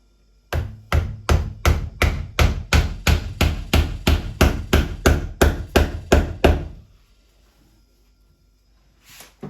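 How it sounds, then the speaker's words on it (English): About fifteen sharp hammer blows driving a stick in without glue, in a steady, even rhythm, loud and close, followed by quiet and a faint knock at the end. "I just hammer in this stick without any glue."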